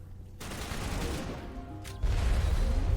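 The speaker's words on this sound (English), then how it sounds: "Dude is just immediately launching missiles." An enemy firing missiles during Mass Effect combat, with dense rumbling blasts and rapid gunfire that grow heavier and louder toward the end.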